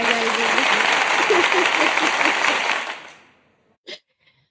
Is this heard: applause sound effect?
yes